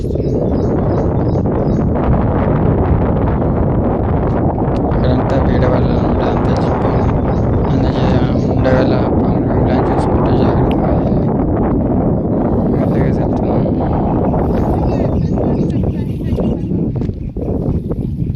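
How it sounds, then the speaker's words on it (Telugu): Strong wind blowing across an open outdoor spot while seed is being broadcast, a loud continuous roar buffeting the microphone throughout, with a voice speaking under it. "గాలి బాగా వస్తుంది"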